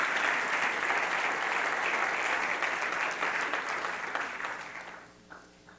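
A church congregation applauds loudly in praise of the Lord, a thick, sustained clapping that holds for several seconds and then thins and fades away.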